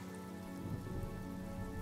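Steady rain falls in the Honkai: Star Rail video game, a soft, continuous patter of drops on surfaces heard alone at low volume, with no voices over it.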